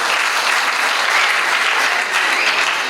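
An audience applauds for a rapper at his 50th birthday event, a dense, loud and steady wash of clapping from many hands that holds throughout.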